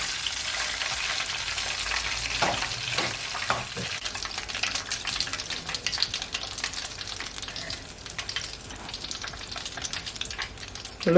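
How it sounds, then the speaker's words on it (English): Chicken deep frying in hot oil, a loud, dense, continuous crackling sizzle heard close up with a few brief stirring knocks early on. "So now I'm just gonna fry my remaining chicken."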